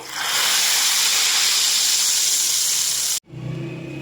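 A loud, steady hiss of hot oil tempering sizzling into cooked masoor lentils fills the pot for about three seconds, then cuts off abruptly, leaving a softer bubbling sizzle.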